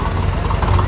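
Vintage Ford tractor from 1923, the first tractor to reach Resana, idles with a steady low engine rumble and faint knocking at a parade of antique tractors.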